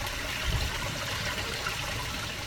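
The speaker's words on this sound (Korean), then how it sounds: "문수사 가는 길 옆 계곡에는 봄을 함께하는 계곡 물소리가 청아하게 들립니다" Mountain stream water flowing steadily beside the forest path to Munsusa temple in Gochang in spring, a continuous soft rushing and trickling with no voices.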